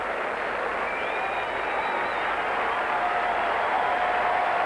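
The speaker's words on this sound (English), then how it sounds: "the crowd standing, giving an ovation to Cobar as the rest of the field comes in" Stadium crowd at the 1984 Olympics roaring and applauding in a standing ovation for a race winner, a dense, steady wash of cheering that holds evenly throughout.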